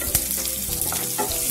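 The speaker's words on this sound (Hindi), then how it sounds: "ये जो मैंने प्याज लिए हैं ये भी मैं इसमें डाल देती हूँ अभी" Onions frying in hot oil with cumin seeds and a pinch of asafoetida for potato curry, a loud, dense, continuous sizzle heard up close with faint stirring.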